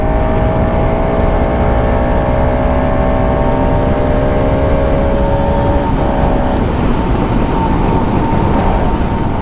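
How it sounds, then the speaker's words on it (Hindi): A Bajaj Pulsar RS200 motorcycle engine drones steadily while riding, a loud continuous hum with layered tonal harmonics over strong road and wind noise, holding an even pitch throughout. "RS का साउंड बहुत तगड़ा है, साउंड में भी कोई परिवर्तन नहीं आया गाइस।"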